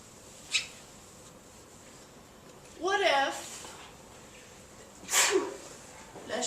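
A single sharp sneeze bursts out in a quiet classroom, preceded and followed by brief smaller sounds, with low room hum between.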